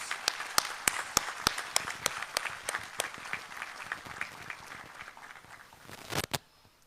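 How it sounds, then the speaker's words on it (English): Applause from an audience at a university graduation address, starting as a few sharp, scattered claps that thicken into a light patter, then ending in a last quick burst and a few final claps. "Let's give a round of applause to celebrate their contributions to your lives."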